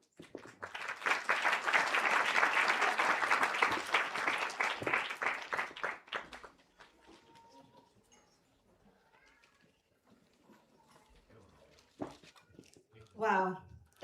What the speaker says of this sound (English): So big round of applause for all of them.